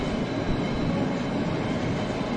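A train passes in the horror video game Cry of Fear, a loud, continuous rolling rumble of wheels and carriages that fills the whole stretch with no voices.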